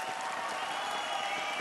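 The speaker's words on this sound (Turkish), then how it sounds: "Royal Youth'un bu seriyi kazanacağını düşünenler bir alkışlayabilir mi?" Audience applause at an esports stage opening ceremony for the team Royal Youth, a steady wash of many clapping hands heard from some distance, without talk.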